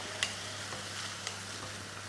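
Onion frying in a pan for street-style pav bhaji gives a soft, steady sizzle with a few light stirring scrapes, close and quiet, with no talk.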